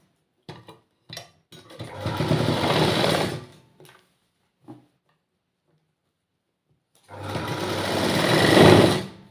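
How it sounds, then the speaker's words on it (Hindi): A sewing machine stitches cord-filled piping along the edge of a fabric piece. It runs close and steady in two bursts separated by a quiet pause, with a few short clicks of handling before the first run. "किनारी किनारी मशीन चलाई दा।"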